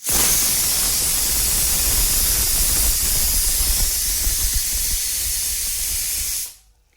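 A steady, loud hiss of steam and bubbling from pots of rice and chickpeas boiling on a stove, continuous for several seconds before cutting off abruptly.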